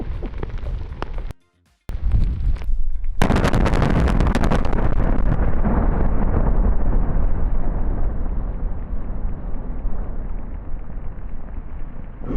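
A phosphate mine blast goes off close by, a sudden deep roar after a moment of silence, followed by a long rumbling wash of debris and wind noise that slowly fades.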